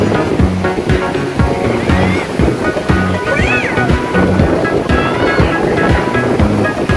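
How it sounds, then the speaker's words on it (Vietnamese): Big ocean waves at sea crash and surge steadily, loud and close, with a rushing, roaring wash and wind buffeting the microphone as a boat heads out. "sóng biển lớn quá các bạn ơi"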